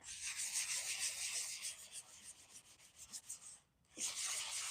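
Steady back-and-forth rasp of hand sanding on an old oak dresser, close and continuous in rhythmic strokes, with a brief pause before the scraping resumes.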